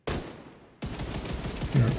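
Rapid bursts of video game gunfire during a PVE fight, a loud dense volley that starts suddenly after a brief quieter lull and keeps up steadily to the end.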